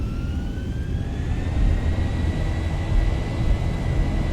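Simulated Boeing 737-800 (Zibo mod) engines spooled to takeoff power in X-Plane 11, a loud steady jet roar with rising whining tones and deep rumble throughout.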